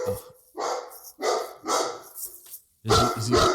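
A Bernese mountain dog barks in a run of loud, close, evenly spaced woofs, about five or six in a few seconds, with people's voices faint around them.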